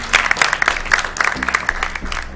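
Studio audience on a game show clapping for a contestant's correct answer, brisk close applause from a modest crowd with individual claps standing out over a low hum.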